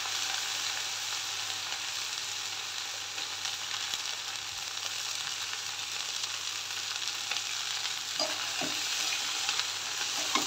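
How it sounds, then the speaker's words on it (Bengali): Okra frying in a pan, a steady broad hiss of sizzling oil running throughout, with a few faint stirring knocks near the end, no voices. "এই তো এখন ঢেঁড়সটা দিয়ে দিলাম। এখন ভালো করে আর কি নেড়ে চেড়ে ভাজবো।"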